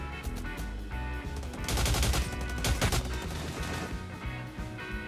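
Rapid automatic gunfire from the video game Cyber Hunter, loud and continuous with dense bursts that swell in the middle, alongside music or game effects.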